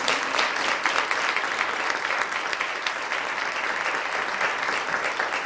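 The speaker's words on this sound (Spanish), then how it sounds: "Así que un aplauso para vosotros." Sustained applause from a live audience after a music performance in Herrera del Duque, Spain, thick, even clapping filling the space with no talk over it.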